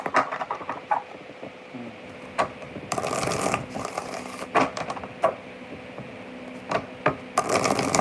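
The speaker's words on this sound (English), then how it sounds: "3 more shuffles" Tarot cards are shuffled repeatedly in quick riffling bursts, crisp and close, with soft handling noises between shuffles.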